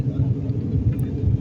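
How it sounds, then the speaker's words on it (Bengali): A steady, loud low-frequency rumble fills the cabin as the airliner climbs after takeoff from Dhaka, constant and unbroken with no speech. "এখন বিমানটি আকাশের দিকে উঠতেছে।"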